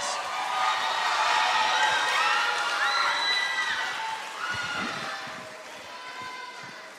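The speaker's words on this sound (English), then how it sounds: "Please give them a round of applause." Audience applause and cheering for senior creative writing students at a festival performance, a broad crowd roar with whoops and shouted voices, loud at first and easing off toward the end.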